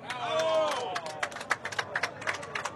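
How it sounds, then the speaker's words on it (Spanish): Scattered hand claps from a crowd greeting a town during a presidential bus tour in Anzoátegui, sharp and uneven after a brief opening voice, moderately close and fairly quiet. "Vamos a darle un aplauso al pueblo"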